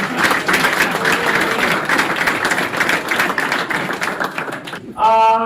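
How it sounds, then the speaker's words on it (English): Sustained, dense applause from a group of people honouring a high school football player. The clapping runs steadily and close, then stops abruptly near the end with a brief different sound. "We can clap for Trent"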